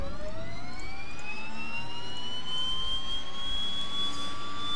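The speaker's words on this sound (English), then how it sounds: "Start, left engine." A simulated left aircraft engine spins up in a flight simulator game in Alaska, its turbine whine rising steadily in pitch over a low rumbling roar, loud and continuous with no talking.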